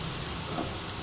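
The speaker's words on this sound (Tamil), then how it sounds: "நல்லா ஃப்ரை பண்ணிங்க. நல்லா ஃப்ரை ஆகணும்." Grated carrots fry in a pan for carrot halwa, a steady, close hiss and sizzle with no talking over it.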